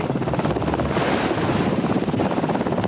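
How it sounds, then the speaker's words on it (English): Helicopter rotor blades beat in a heavy, continuous rhythmic thump close by, mixed with rushing downwash and wind noise, loud and unbroken throughout. "Stung by the high-powered wash of helicopter blades"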